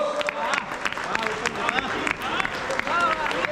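Audience applause at a Gujarati folk dayro concert in Melbourne, steady clapping from a crowd with talk and babble running over it throughout.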